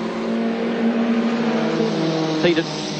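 Goodyear Laser race cars from the 1985 series scream down the back straight at Calder Park, a steady, droning engine note with a brief louder burst near the end, with a voice talking underneath.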